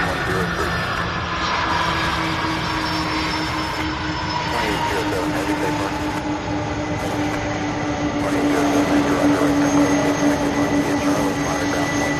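MD-11 jet engines at Louisville's SDF airport give a steady, continuous roar with whining tonal lines, holding level throughout and swelling slightly louder toward the end.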